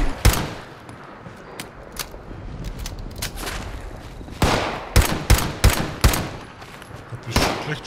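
Gunfire in the Fallout 76 video game comes as scattered sharp shots, with a denser run of loud reports in the second half over a low game backdrop.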